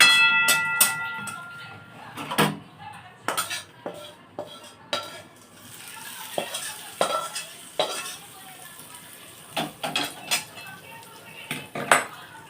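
Hot tempering with asafoetida poured into coconut chutney, with repeated sharp metal clinks of a spoon against a steel bowl, some brief sizzling and stirring scrapes, close and fairly loud.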